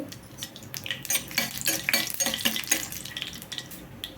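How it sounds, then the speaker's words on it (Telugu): Spattering crackle of urad dal and a dried red chilli tempering in oil, irregular pops and hisses, fairly soft and close, with no voices. "ఇదిగోండి మినపప్పు. తాలింపు వేగాలండి."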